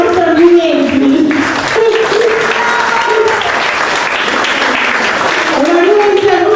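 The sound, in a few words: audience applause for Giovanni Molinelli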